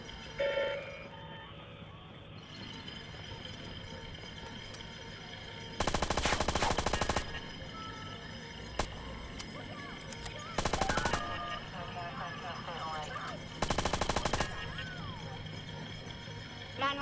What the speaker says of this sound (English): Look, he's got a gun on him.